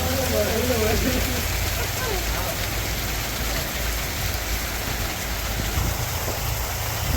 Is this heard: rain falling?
yes